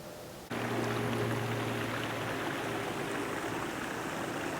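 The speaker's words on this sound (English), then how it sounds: "Now that's a water feature" Water pours steadily in a cemetery water feature, a continuous close rushing wash that kicks in suddenly after a brief quieter moment and keeps going with no talk.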